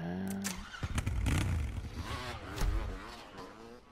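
A motorbike engine in Trials Rising revs and surges through a wheelie attempt, rough bursts and rising whines with clattering, close and fairly loud, over game effects.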